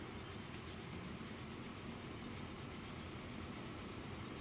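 An oil train rumbles along a line in the video game Transport Fever, a steady broadband roll with faint clicks of wheels, low in level and continuous, with no speech.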